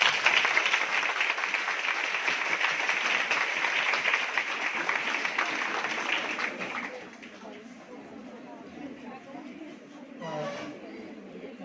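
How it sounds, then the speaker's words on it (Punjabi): An audience at a Women's Day celebration gives a burst of sustained clapping that fades out after about six seconds, leaving quiet room sound. "ਤਾੜੀਆਂ ਉਹਦੇ ਲਈ।"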